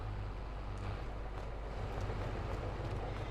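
Feed mixer running in the Farming Simulator 22 game, with the tractor left on to power it: a steady, dense mechanical drone and rumble that holds even and continuous throughout, with no talk over it.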